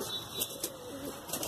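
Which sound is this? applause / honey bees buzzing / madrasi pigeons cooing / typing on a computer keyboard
madrasi pigeons cooing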